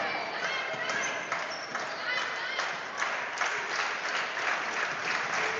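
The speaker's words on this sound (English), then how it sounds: "Black Bear fans clapping in unison as they realize their team's going to get their 20th victory" Fans at a girls' high school basketball game clapping in unison as their team closes out a win, a rhythmic crowd clap under gym noise and bouncing, with a commentator talking over it.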